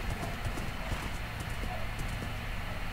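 Horse hooves clip-clopping in the video game Minecraft, a steady run of quick, even hoofbeats against a dense, constant background wash, moderately close and fairly loud.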